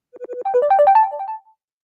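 A phone ringtone plays a short melodic tune of rising electronic tones, beginning with a few separate beeps and then running on as a quick phrase that stops cleanly, close and clear with no talking.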